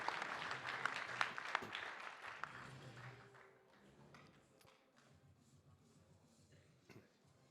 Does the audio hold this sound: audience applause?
yes